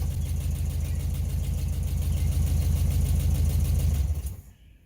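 A 1968 VW Bus engine, revived after years of storage, runs with a loud, close, lumpy air-cooled idle pulsing rhythmically, then dies abruptly near the end, dropping away to quiet.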